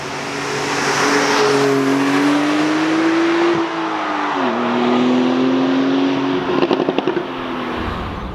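A Porsche 911 GTS engine revs hard toward 7,500 rpm in one long, loud, climbing pull with a shift-like dip, then short crackles near the end.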